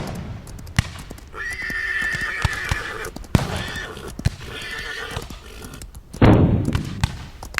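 A horse whinnies loudly and at length amid hoof clops and scattered thuds, then a sharp heavy thump near the end, in a rugged outdoor desert setting.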